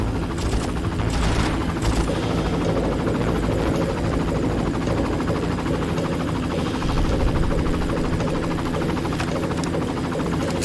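A helicopter in the Far Cry video game drones with a steady, loud rotor thrum for the whole stretch, with some faint crackles on top and no talking.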